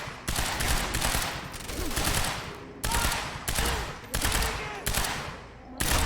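Rapid automatic gunfire from the shooter game Quantum Break, in a docks and warehouse area, rattles in several dense bursts separated by short pauses, loud and close, with chaotic combat noise between.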